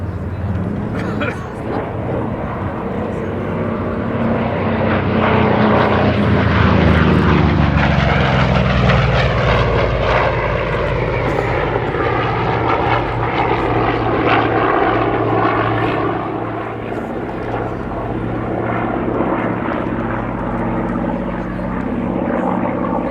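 A Vought Corsair with a 2,000-horsepower Pratt & Whitney R2800 Double Wasp radial engine at a Battle of Britain air show at IWM Duxford, a loud continuous propeller drone that swells and shifts pitch as it passes, with talk over it.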